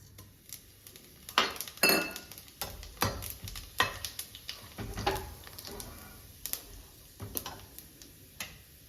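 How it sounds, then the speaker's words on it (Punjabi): Cumin seeds go into hot oil that has cooled slightly in a pan, giving a quiet, light sizzle broken by irregular taps and clinks of a utensil against the pan. "ਹੁਣ ਆਪਾਂ ਇਹਦੇ ਵਿੱਚ ਜੀਰਾ ਪਾਵਾਂਗੇ ਜੀਰਾ ਪਾ ਦਾਂਗੇ ਜੀ"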